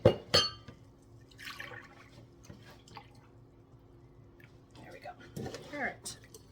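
Cold whole milk is poured into a measuring cup, with a brief splash and trickle at the start and another pour near the end, separated by quiet handling; a person speaks at times.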